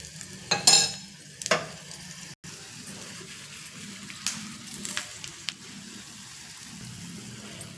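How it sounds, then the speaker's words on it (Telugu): Hot tempering is poured into curd rice and stirred, giving a soft sizzle with a few sharp crackles and clinks early on, then quieter mixing noises; no one speaks. "ఇప్పుడు ఇంకా అన్నంలోకి తాలింపుని వేసేయడమే"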